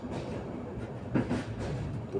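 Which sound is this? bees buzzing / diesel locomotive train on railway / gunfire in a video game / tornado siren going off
diesel locomotive train on railway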